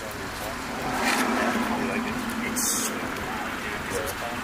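A Chrysler 300C's 6.4-litre V8 engine rumbles and revs up, swelling louder for a moment before settling, while people talk over it.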